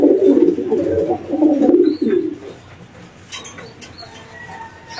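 Racing pigeons in a loft coo in soft, low, rolling calls close by for about two seconds, then fade to quiet room noise with faint stray chirps.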